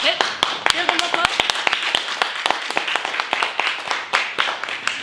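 An audience claps to welcome speakers onto a stage at a breakfast event, with sharp, scattered handclaps that stay distinct rather than merging into a roar.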